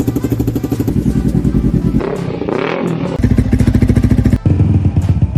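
Loud imported racing motorcycle exhaust blaring close up, a rapid throbbing drone that dips briefly and then surges again with sharp revving.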